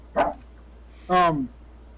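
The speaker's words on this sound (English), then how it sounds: "Oh, there goes the dogs." Dogs barking nearby during a live vaping-themed chat stream, two separate barks, the second longer and more tonal, standing out clearly against a quiet background.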